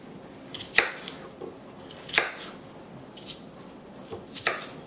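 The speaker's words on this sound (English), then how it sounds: "So I'm going to cut them right now" Knife cutting apple pieces into fourths, a few sharp separate chops or crunches spaced about a second apart, close and fairly quiet in a still room.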